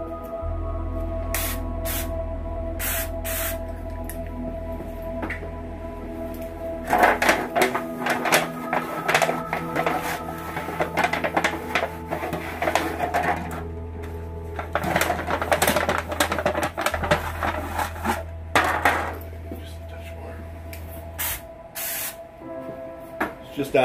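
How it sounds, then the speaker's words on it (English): Olive oil misted onto a deep-dish pizza pan in a home kitchen, a few short spray bursts over a steady hum, with clattering and handling noises nearby. "just lightly oil the pan."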